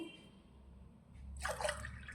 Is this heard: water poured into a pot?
yes